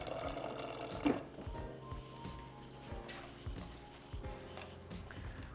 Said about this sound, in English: Now it's water from the fridge ASMR.